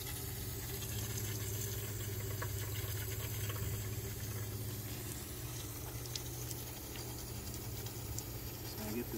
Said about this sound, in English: Yep, there's water coming in already.